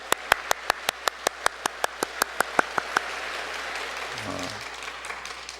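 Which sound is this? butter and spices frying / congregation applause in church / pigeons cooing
congregation applause in church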